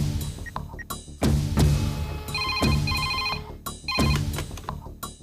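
A landline telephone rings in bright, repeating electronic trills, interrupted by several sharp thuds and knocks nearby, loud and close with no one speaking.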